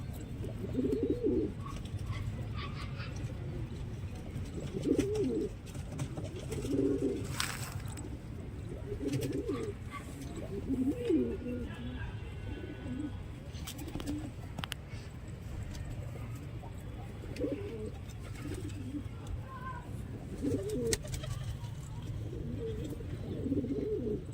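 A pair of pigeons coos in soft, repeated low bursts at close range, with occasional small rustles and faint background activity between calls.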